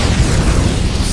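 A fire spell from Octopath Traveler II roars up in a brief, dense burst of low rumbling, crackling flame that stays loud and steady throughout, with no voices.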